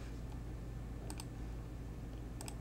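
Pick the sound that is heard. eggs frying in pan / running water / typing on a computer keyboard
typing on a computer keyboard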